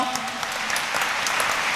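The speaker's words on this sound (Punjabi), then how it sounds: "ਜ਼ੋਰਦਾਰ ਤਾੜੀਆਂ" Loud, continuous clapping from a church congregation at a first Holy Mass and welcome, dense and steady throughout, with a bright, crackling texture and no pause.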